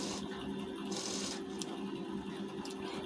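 A sewing machine stitches a strip onto a blouse neckline, running at a steady, continuous buzzing hum close up, with slight clicks and variations in pace and no voices.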